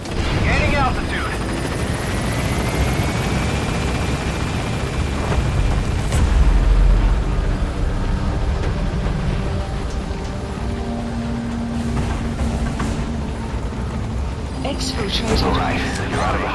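The Pequod helicopter lifts off from a landing zone in Metal Gear Solid V, its rotor and engine drone running continuously under radio chatter, with a heavy low thump partway through.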